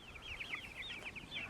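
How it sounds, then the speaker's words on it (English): Cornish cross meat chickens clucking, a quick string of soft, high chirping clucks in close succession over a faint background hum. "we got 16 Cornish cross meat chickens"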